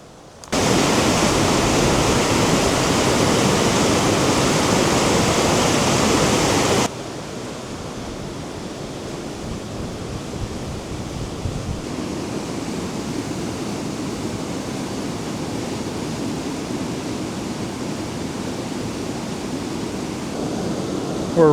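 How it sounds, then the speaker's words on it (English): A high waterfall swollen with spring runoff on the North Shore gives a steady, loud, broadband roar of rushing water. The sound is louder at first, then continues slightly softer, with no talking. "We're right above the high falls right now, the top of the falls."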